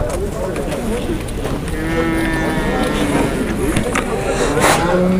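Cattle low at a busy livestock bazaar in Jalal-Abad, a drawn-out moo rising over crowd chatter and steady market noise, with people talking nearby.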